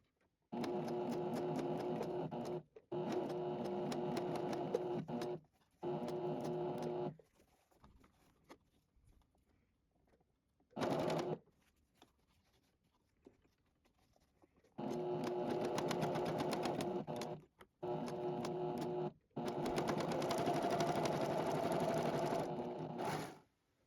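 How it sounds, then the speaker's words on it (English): A JUKI serger overlocks a fabric edge on a fall pumpkin decoration, running in several loud, close bursts of rapid whirring separated by short silent pauses. "I'm just going to serge along the edge of the top and the bottom"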